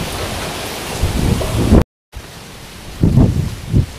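A strong windstorm tosses trees with loud, surging gusts as light rain begins to fall. The roar swells and eases, cuts out briefly partway through, then returns with fresh gusts, and no one speaks.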